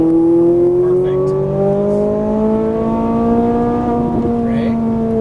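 Ferrari 458 Italia accelerating on a racing track, a loud engine note rising steadily in pitch through the gear, heard from inside the car.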